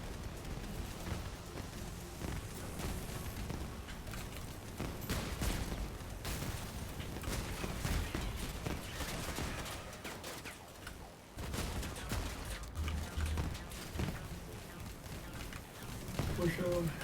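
Dense video game gunfire in a battle, rapid crackling shots and bursts running nearly nonstop, loud and busy, with a brief lull before firing resumes.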